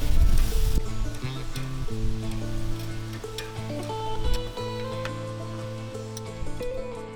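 Pork and venison bratwursts sizzle on a Big Green Egg grill, with a steady crackling hiss that runs throughout and steady tonal sounds underneath.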